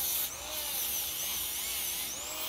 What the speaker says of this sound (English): These brushes are great, especially when you get any polishing materials in the groove.